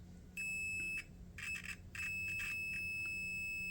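A multimeter gives a continuity beep while its probes test a pin on a 2015-2016 Ford Escape instrument cluster connector, a thin, steady electronic tone sounding in a few short on-off bursts at close range, with no talking.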